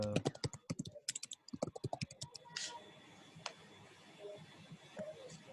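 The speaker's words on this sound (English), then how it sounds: "Someone's typing up a storm." Rapid keyboard typing clatters in quick bursts, then slows to a few scattered key clicks against a quiet background.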